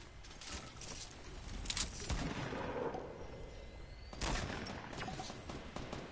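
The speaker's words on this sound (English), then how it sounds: "Someone shooting from the mountain." Distant gunfire from a player shooting off a mountain in the video game Fortnite, a few scattered cracks over a steady background hiss, with no talk.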